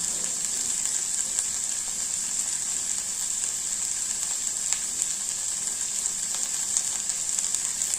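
Salted okra bhaji frying and being mixed in a pan, a steady even sizzle throughout with occasional faint stirring ticks, close and unbroken, with no voices.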